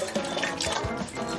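A drink is poured in short, splashing, trickling bursts during a game-show task, close and moderately quiet.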